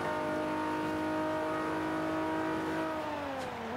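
Mitsubishi EVO 6 engine in Forza 5, tuned B class, holding a steady high rev with a slight pitch rise and then a drop near the end, loud and continuous with no voices.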